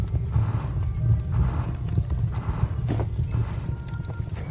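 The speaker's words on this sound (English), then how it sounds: "Come here, horse." Horse hooves clip-clop steadily alongside an occasional neigh in the fantasy survival video game Ars Notoria, heard over a low, constant rumbling ambience with no talking.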